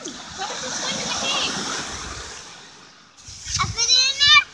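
Water sloshes and splashes into a toy shark's cave in a steady wash, then fades before a voice and more splashing come in near the end.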